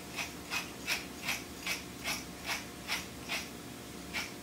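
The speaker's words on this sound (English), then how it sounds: "we're going to add freshly ground black pepper to this because it's shellfish and it can handle it" Freshly ground black pepper cracks from a pepper mill while a shellfish sauté is made, heard as eleven evenly spaced, crisp grinding clicks with a steady ratchet-like rhythm. The sound is close and clear, with no talking.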